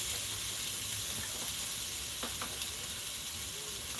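Onions, garlic and jalapeno pepper sauté in a pan, giving off a continuous soft sizzle and hiss with a few faint scrapes of stirring.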